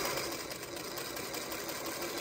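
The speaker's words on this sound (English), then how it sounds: "I'm just going to sew it." Sewing machine stitching a quilt block seam for an Applesauce quilt block, a steady continuous mechanical hum with even texture running throughout, fairly quiet and without talk.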